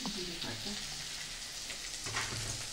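Banana flower and soaked rice are stirred in a hot frying pan, a steady close sizzle with soft scraping and clinks from the spoon moving the mixture around.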